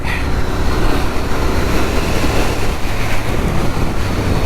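Loud, constant wind roar buffets the microphone while riding a Royal Enfield 650 GT Continental motorcycle with stock exhausts, dense and unbroken throughout, with a low rumble underneath and no voices.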